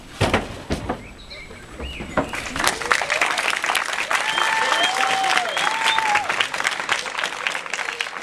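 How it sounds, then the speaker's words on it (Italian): Audience applause at a Joker cosplay performance at a cosplay day event in Mestre, a sustained crowd clapping that swells and continues throughout, with a few whistles rising above it and voices mixed in. "un bel applauso per Emanuele!"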